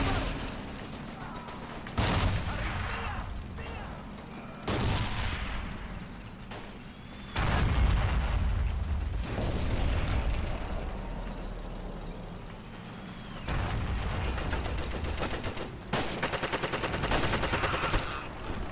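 A grenade blast and bursts of gunfire in the World War II shooter Forgotten Hope 2, sharp reports arriving in irregular clusters, some close and some distant, with sustained rattling between them.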